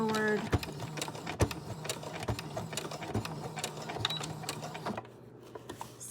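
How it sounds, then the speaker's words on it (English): A sewing machine stitching scrap fabric for a lanyard, back and forth, its needle clicking in a rapid, even mechanical rhythm up close before stopping near the end. "I'm back stitching again. And now I'm stitching forward."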